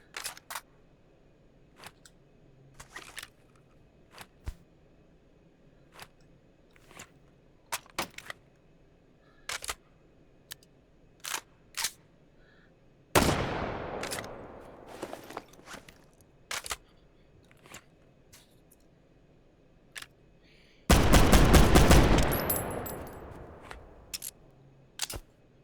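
Two loud rifle shots from the night rifle in the VR shooter H3VR, each a sharp broadband blast ringing out into a decaying tail, set against a quiet background of faint clicks and handling noises.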